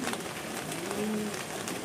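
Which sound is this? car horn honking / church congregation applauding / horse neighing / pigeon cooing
pigeon cooing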